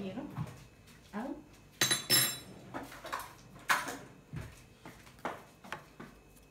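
A large spoon scraping and knocking against a bowl while mixing, a series of short clinks and scrapes at uneven intervals, fairly close, with a voice talking between them.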